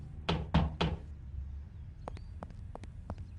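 Three loud, evenly spaced knocks on a door, followed by a series of lighter, sharper taps and clicks.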